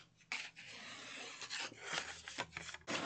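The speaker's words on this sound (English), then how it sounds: "And I'll just fold and burnish." Paper is folded along a score line and burnished flat, producing close, dry rubbing swipes in a few bursts with short pauses between them.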